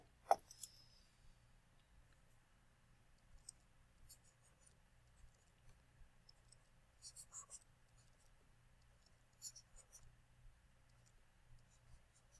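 Faint, close handwriting on paper during a math lesson, sparse light scratches and ticks over a low steady hum, with a sharp click at the start and no talking.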